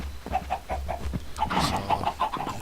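Bred chickens in the Blood N Bones video game give off a continuous stream of clucks and short calls, rising into a busier flurry midway over a constant low background drone.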